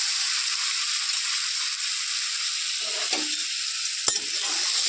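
Soaked peanuts sizzle with mustard seeds in hot oil in a pan, a steady bright hiss with a few brief stirring scrapes and a sharp click near the end.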